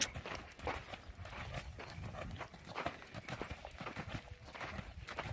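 A horse canters on a 20-meter lunge circle, its hoofbeats a steady rhythmic drumming on the ground, fairly quiet and heard alone without speech.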